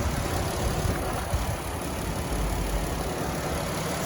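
A 2016 Dodge Grand Caravan SXT with a 3.6 liter flex fuel engine idles in a steady, even rumble, close and continuous with no talking over it.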